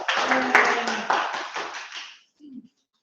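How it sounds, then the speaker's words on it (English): A small group claps together at a Toastmasters club meeting in Fresno, a dense patter of hands lasting about two seconds before fading out, followed by a brief low voice. "round of applause, please"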